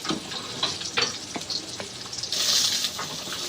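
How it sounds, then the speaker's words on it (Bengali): Pieces of pona fish fry in hot oil with a close, crackling sizzle. Scattered pops and utensil clicks break through, and the hiss briefly rises louder near the end. "মাছগুলো ভাজা হয়ে গেছে, সব তুলে নেব।"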